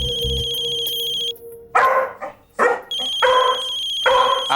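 A dog barks four times in short, loud, close bursts, with a telephone-like ringing tone sounding before and between the barks.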